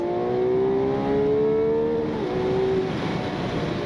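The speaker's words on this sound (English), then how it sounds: "I found the V12, and good heavens, I found the noise." Ferrari 12Cilindri V12 engine revving hard toward its 9,500 rpm redline, a loud, close, rising harmonic wail that climbs, dips briefly and climbs again across a few seconds, with no voices over it.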